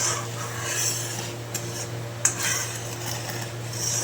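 A burnt iron kadai soaked in tamarind water gives off soft, continuous scraping and rubbing with a few light metallic clinks, close and fairly quiet, with a steady hum in the background.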